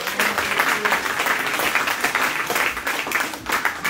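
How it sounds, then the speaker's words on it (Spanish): A church congregation breaks into loud, sustained applause, a thick crackle of many hands clapping steadily with little talk over it. "Dale un aplauso fuerte."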